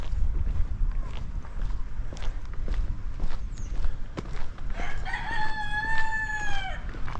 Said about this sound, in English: Chickens, yeah.